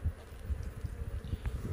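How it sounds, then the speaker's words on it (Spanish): Honeybees in a small three-frame nucleus hive give off a low, steady droning buzz with soft pulsing swells throughout. "Bueno, tiene buena cantidad de abejas."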